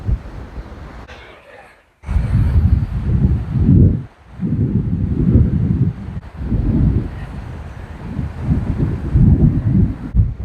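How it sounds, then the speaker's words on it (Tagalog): Strong wind buffets the microphone in heavy, low rumbling gusts, loud and continuous with brief lulls between blasts. "Lakas ang hangin."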